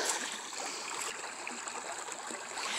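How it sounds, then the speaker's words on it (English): A boiling spring in the Ozark Mountains of Arkansas bubbles and gurgles as churning water tumbles rocks, a steady close hiss of rushing, trickling water with no voices. "it starts boiling and tumbling rocks"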